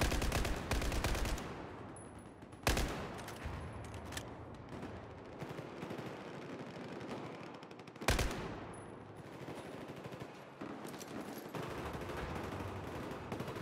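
Rapid automatic fire from a Scar-H rifle in Battlefield 4, sustained bursts rattling almost continuously for over ten seconds with two louder blasts cutting through, loud and close, without talk.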